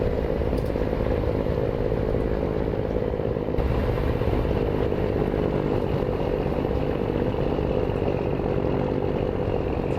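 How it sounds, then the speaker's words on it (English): Truck engine droning steadily while driving on a dirt road in American Truck Simulator, a loud continuous low rumble with rattling texture, no talking. "running on a dirt road like we are now is going to sound completely different than running on asphalt"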